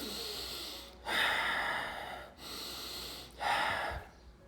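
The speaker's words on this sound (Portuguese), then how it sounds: "Respira pelo nariz, solta pela boca." Slow breathing exercise, air drawn in through the nose and let out through the mouth, three loud breath cycles each marked by a soft rushing whoosh and a brief pause between them.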